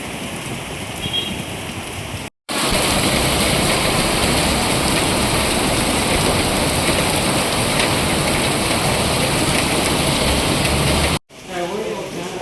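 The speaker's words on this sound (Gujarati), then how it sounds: "બપોરના સમયે ભાવનગર શહેરમાં ગાજવીજ સાથે વરસાદ પડ્યો છે" Heavy rain pours steadily over Bhavnagar city in the afternoon, a dense, continuous hiss that stays loud throughout, briefly broken by two short dropouts; any thunder is not clearly distinguishable.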